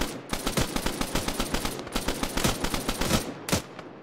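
Rifles and machine guns fire in a firefight: dense, rapid bursts of shots in a steady rhythm, loud and close, pausing briefly before a final sharp volley.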